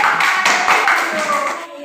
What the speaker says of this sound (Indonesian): Tepuk tangan buat kelompok karnivora.